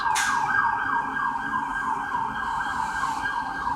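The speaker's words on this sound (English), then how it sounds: "And when you hear that siren" A loud siren wailing continuously in a rapid up-and-down warble, close by, with traffic rumble underneath.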